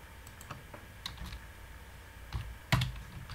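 A computer keyboard being typed on, with a few sparse, quiet key clicks and one sharper keystroke near the end, heard close up against faint background hiss.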